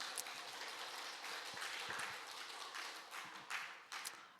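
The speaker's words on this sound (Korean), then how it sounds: "박수." Scattered applause from a congregation during a Korean Wednesday church service, soft and distant, a few seconds of uneven clapping with some sharper individual claps near the end.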